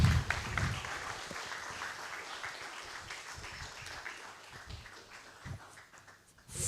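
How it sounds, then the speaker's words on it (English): An audience at a registrar's office presentation claps for a professor after his talk, a dense burst of applause that is loudest at the start and slowly thins out toward the end. "Ladies and gentlemen, a round of applause to him."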